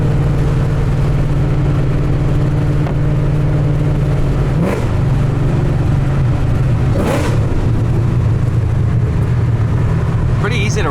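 A modified 2007 Shelby GT500 of about 800 horsepower hums loudly and steadily from inside the cabin, with a couple of brief throttle blips rising over the drone while people talk.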